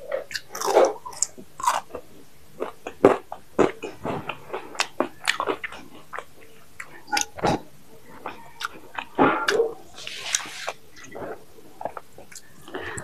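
Spicy French fries are bitten and chewed close up in an eating challenge, with repeated crunchy bites and wet mastication noises in an irregular rhythm throughout.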